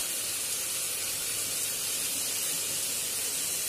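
Fried prawns dropped into a hot pan of softened pumpkin and potato, giving a steady broad sizzling hiss that stays close and even throughout, with no talking.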